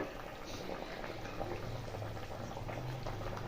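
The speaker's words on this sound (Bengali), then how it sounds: "দু মিনিট ফুটিয়ে দেবো।" Raw banana kofta curry simmers in a pan, a steady low bubbling boil with soft liquid gurgles, fairly quiet and continuous throughout.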